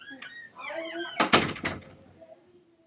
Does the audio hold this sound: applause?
no